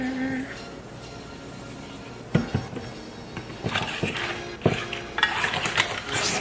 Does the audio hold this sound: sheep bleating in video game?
no